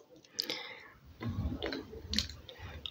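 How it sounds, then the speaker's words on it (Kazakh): Potatoes being cut into small pieces by knife, a few close, quick clicks and chops in an irregular rhythm over a quiet kitchen background. "Май қуырылып атқанша картошкамды тураймын."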